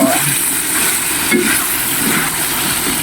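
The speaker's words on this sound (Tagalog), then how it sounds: "Haluin hanggang sa maluto." Onions and green chili fry in a pan with a continuous loud sizzle and low clattering as they are stirred, steady throughout.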